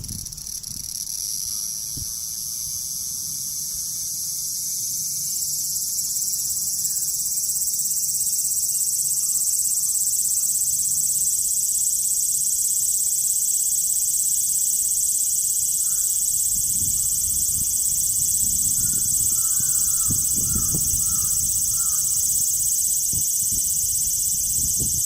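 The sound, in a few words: cicadas singing in Osaka, Japan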